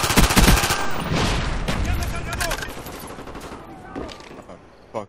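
Rapid bursts of gunfire in a first-person shooter game, dense and loud at first and tapering off, with a voice talking over the shots.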